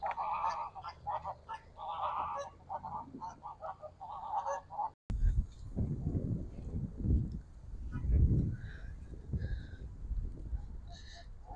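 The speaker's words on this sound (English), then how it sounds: "Oh, we got some geese." Geese honk repeatedly at a moderate distance at Ashley Pond in Los Alamos, a chattering flock of calls with a burst of louder rumbling noise partway through.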